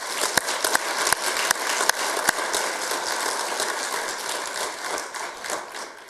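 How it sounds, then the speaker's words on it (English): Audience at a design and environmental achievement awards ceremony applauds a recipient, a dense crackle of many hands with a few sharp louder claps near the start, holding steady then easing slightly toward the end. "Let's give them a round of applause."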